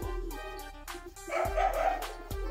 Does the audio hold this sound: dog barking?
yes